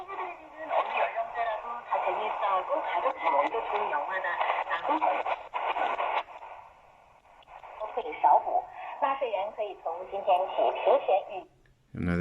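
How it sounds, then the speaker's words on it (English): Chinese shortwave station picked up on an XHDATA D-219 radio around 9.8 MHz, a continuous stream of tinny, narrowband broadcast speech with faint static and a brief dropout near the end. "Another Chinese signal."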